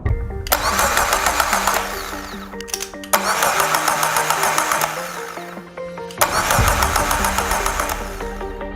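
A car starter motor, mounted temporarily on a bench outside its usual transmission bell housing, whirs loudly in three sustained bursts of cranking, with brief pauses between runs.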